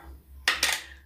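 A lid pulled off a skincare product container: two quick, close clicking snaps with a brief bright rattle, against a quiet background hum and no speech.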